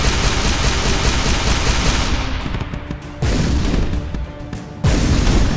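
Gunfire-like blasts of a needle weapon in the Shellshock Live tank artillery game, loud and dense, with a sustained rattling barrage that briefly drops off before resuming with fresh bursts.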